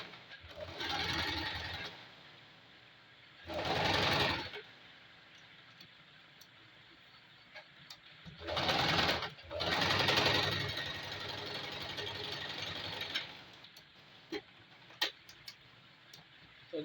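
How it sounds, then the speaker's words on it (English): A sewing machine stitches around a single welt pocket in bursts of steady rapid whirring, several runs of a few seconds each separated by quiet gaps with faint clicks and handling noises. "I'll take it to the sewing machine and then I'll sew it around by the tip,"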